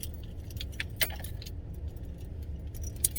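A bunch of keys clipped on a carabiner jangles in short, bright metallic bursts beside an idling car on a cold day, with a steady low engine rumble underneath.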